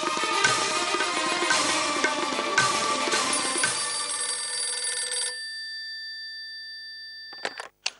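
A mobile phone rings loudly in a domestic TV drama scene, its electronic ringtone repeating in bursts for about five seconds, then stopping, followed by a couple of faint knocks.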